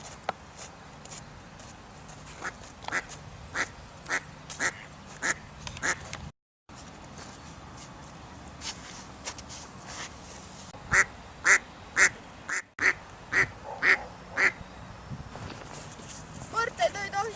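Several ducks quack in short, repeated bursts, fairly close and loud, scattered irregularly across the whole stretch. Background noise and a voice are also audible, with quacks clustering more densely toward the end.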